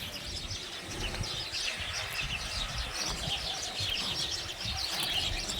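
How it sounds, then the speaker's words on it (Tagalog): Small birds chirp noisily in a tree outdoors, a busy overlapping chatter of high, rapid tweets from many birds, steady and fairly distant, over a low background rumble with no talking. "Ayan, mga ibon. Oh, ang ingay-ingay nila nasa puno ng kahoy"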